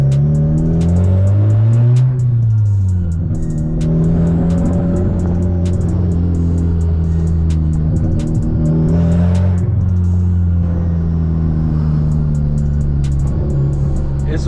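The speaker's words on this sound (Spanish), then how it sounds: "Eso es un misfire, que no está quemando gasolina." Dodge Caliber SRT-4 turbo four-cylinder at 21 psi revving hard with misfire pops, a loud close engine drone rising and falling through several throttle blips while someone speaks faintly in the background.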